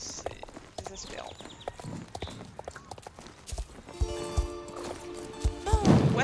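Horse hooves clip-clop in the online horse-riding game Star Stable Online, an irregular run of soft thuds mixed with other game effects and tonal chimes that grow busier toward the end.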